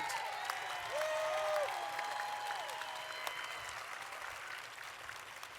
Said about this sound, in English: I would like for you to clap to acknowledge, to say thank you to our honored guest, the Honorable Alex Padilla